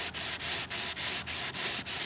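Hand sanding scrapes paint off the sponson of a Miss Geico model hydroplane boat in about seven even back-and-forth strokes, close and steady, with no voices.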